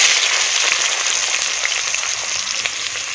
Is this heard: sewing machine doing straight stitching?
no